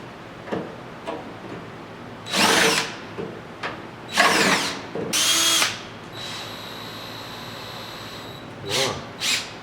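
A power drill bores into the steel of a 1972 Triumph GT6's inner A-post in several loud, close bursts of whining, grinding drilling, separated by quieter pauses with faint handling noises.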